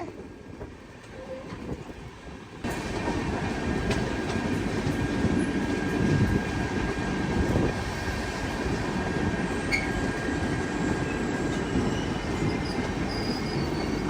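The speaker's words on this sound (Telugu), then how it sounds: "వంగపల్లి స్టేషన్ దగ్గర స్లో చేశారు మన ట్రైన్ని." Millennium Superfast Express slowing near Vangapalli station on a New Delhi to Tirupati run: a steady, loud rolling rumble with wheel and rail noise, quieter for the first few seconds and then rising and holding, with no voices.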